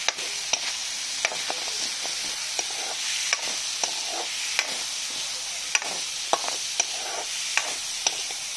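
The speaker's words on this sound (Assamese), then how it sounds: "এতিয়া মই এইখিনি ভাজি ল'ম।" Spinach dal ingredients frying in a hot kadai over a gas flame, a steady close sizzle with sharp spatula taps and stirring clicks spaced through it, no voices.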